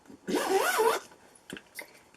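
A single zipper on the top compartment of a makeup bag is pulled in one quick rasping stroke lasting under a second, close and clear, followed by a few faint soft handling taps.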